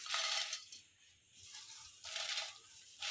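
Whole biryani spices are poured into a dry frying pan in bursts of dry rattling and pattering. Two main pours are heard, separated by a quiet pause, with a third starting at the end.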